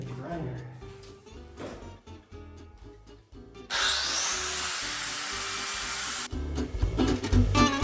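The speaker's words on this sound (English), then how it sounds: "Let me get the grinder." A power grinder runs during a tile renovation in a Provence home, starting with a loud, steady high whine for about two and a half seconds. Scraping, knocking and voices come before it, with banging after it stops.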